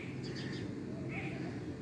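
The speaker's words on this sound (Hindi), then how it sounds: "इस टाइम आप वीडियो में परिंदों की चहचहाने की आवाज़ भी सुन रहे हैं।" Birds chirp outdoors in a calm morning setting, with a few faint, brief calls rising over steady background noise.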